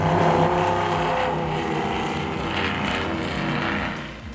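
Racing powerboats with Mercury Racing engines, 36- and 48-foot Skater catamarans on a Key West poker run, drone at speed as a loud, continuous roaring engine whine that fades slightly toward the end, with no talking.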